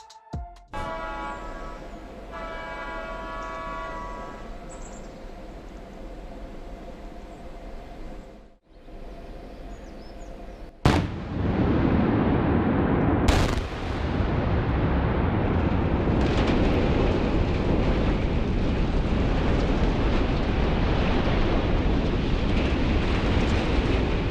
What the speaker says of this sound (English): The footage shows the gasometer of energy provider Do 21 falling at an alarming speed. After the detonation, the building was barely recognizable.